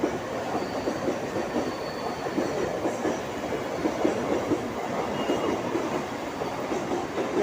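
A Mumbai local train rumbles through Malad station with continuous wheel noise and rhythmic rail clatter, steady and fairly close, carrying on for several seconds without speech.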